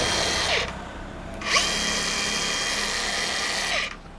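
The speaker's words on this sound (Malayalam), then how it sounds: "കോഡ്ലെസിൻ്റെ മാർബിൾ കട്ടർ" A cordless marble cutter whines at high speed. Its motor surges and drops a few times as it runs almost continuously. It is close and loud, with no speech.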